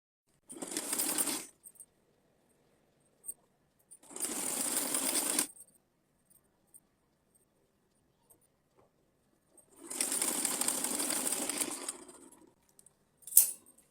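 Sewing machine stitching a lined fabric strip for a small summer deity outfit, running in three bursts of a few seconds each with quiet pauses between, close and clear with no talk.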